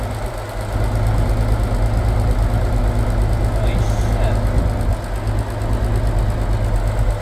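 Old 5-ton military 6x6 truck with a slightly sticky throttle idles steadily at about 1,000 RPM after sitting parked for 20 years, a loud, continuous low rumble with knocking texture filling the whole stretch, with voices nearby.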